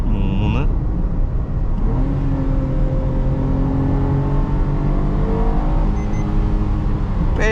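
Maruti Alto K10 engine held at high RPM after a manual downshift, a steady loud in-cabin drone with rising harmonic tones, continuous throughout with a brief voice near the start.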